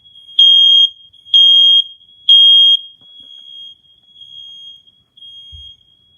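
Household smoke alarm under test, giving three sharp, shrill beeps close by, followed by a fainter sustained tone from another alarm continuing in a quiet room.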